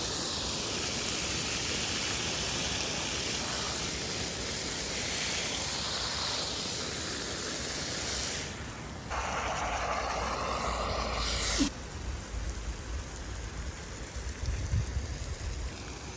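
Garden watering with a hose or sprinkler among weeds and zinnias, a steady hissing spray of water running throughout, briefly changing tone midway, with a faint high whine above it.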